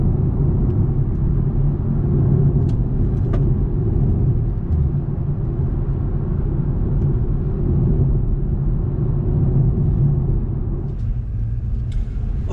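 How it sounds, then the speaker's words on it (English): BMW G20 3 Series driving on country lanes, heard from inside as a steady low road and engine rumble with tyre noise throughout, a few faint clicks, and no talk. "now what I'm going to do is get the car on those country lanes"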